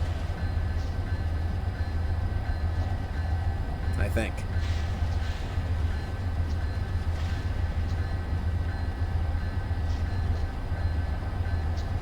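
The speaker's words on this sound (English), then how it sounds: "I think we are coming up on our first Amtrak train." Amtrak train passing in the game Train Simulator 2019 on the Metro North line from Grand Central to South Norwalk: a steady low rumble of rolling stock throughout, with a brief clattering burst partway, under a voice.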